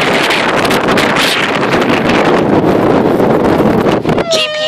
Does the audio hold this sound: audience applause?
no